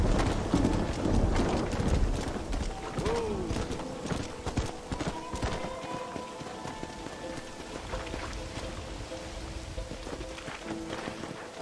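Hooves clip-clop steadily on a horse in the video game Red Dead Redemption, close and rhythmic, with rain pattering around it and a brief neigh early on.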